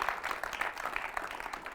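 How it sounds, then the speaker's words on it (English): An audience at a talk gives a round of applause, a moderate clatter of hand claps at some distance, fairly quiet and even throughout the brief stretch. "A huge round of applause for Revant."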